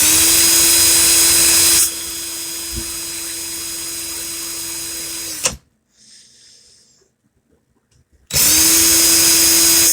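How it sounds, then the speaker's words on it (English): A power drill runs loud and steady in reverse while spacing round wire, whining for several seconds, cutting off into near silence with faint handling, then starting up again at full volume. "Drills in reverse."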